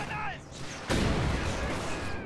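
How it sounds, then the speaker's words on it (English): A Panzerfaust anti-tank weapon fires in Company of Heroes 2, a sudden loud blast about a second in that rolls into a long, dense rumble of battle noise; faint game sounds come before it. "So yeah, that's the Panzerfaust."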